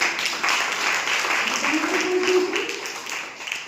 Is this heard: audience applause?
yes